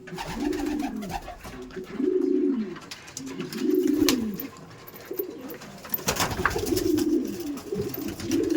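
Pigeons coo in a loft, low throaty rolling phrases repeating every couple of seconds, fairly close and moderate in level, with faint background noise.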